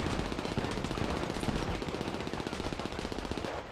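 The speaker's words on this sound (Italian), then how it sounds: "Ma non ho capito perché questo spara tutti, tutti i colpi nella porta" Rapid automatic gunfire in GTA V is fired into a door, a dense rattling burst of shots that keeps going, loud and close with no voices over it.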